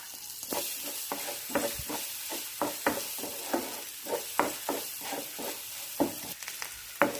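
Mustard seeds splutter and pop in hot oil while a pickle is being made, giving a run of sharp, close crackling bursts at irregular intervals over a low sizzle.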